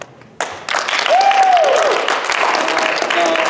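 At a madrigal dinner, an audience bursts into applause for a jester, the clapping starting abruptly after a brief quiet and swelling into a loud, sustained crowd sound with a voice briefly heard over it.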